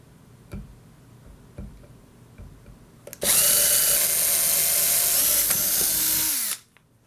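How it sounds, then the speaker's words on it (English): A power drill bores holes through a box while building a mount for a reused vacuum cleaner motor assembly: a few faint clicks, then one loud, steady whirring burst lasting about three seconds before it stops. "now we're going to drill the holes for it."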